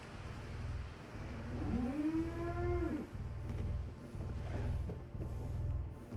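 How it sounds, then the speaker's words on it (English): A cow in the video game Fallout London lets out one long, loud moo over a steady droning in-game engine-like hum. "Got a cow in your room?"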